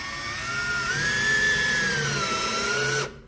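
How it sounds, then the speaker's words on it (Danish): An electric power drill bores down into wood, its motor whining steadily and close for about three seconds with a slight rise in pitch as it works, then stops abruptly. "og så borer jeg ned i træet."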